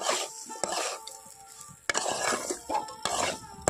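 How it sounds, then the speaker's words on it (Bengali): Drumsticks and potatoes stir-fry with spices in a pan, with repeated metallic scrapes and clinks of a spatula against the pan over a soft sizzle, close and alone. "সজনে ডাঁটা আর আলুটাকে খুব ভালোভাবে কিন্তু মশলার সঙ্গে মিশিয়ে নিতে হবে। 2 মিনিট মতো একটু ভালো করে আমি কষিয়ে নেব।"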